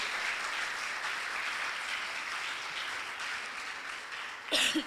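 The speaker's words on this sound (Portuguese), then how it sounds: "Então, um aplauso para mim, né?" Church audience at an evening convention service applauding, a soft, distant, continuous patter of many hands, cut off near the end by a short burst of nearby speech.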